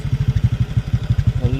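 A Honda XR150 motorcycle engine runs close by with a loud, steady low thumping pulse at an even idle rhythm, with no voices over it.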